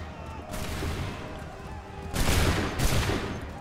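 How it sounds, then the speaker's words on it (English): Musket volley fire in Assassin's Creed 3 Remastered, two loud broadband blasts about half a second apart over a continuous battle din, with no talk. "Wait for it. Shoot. Get him."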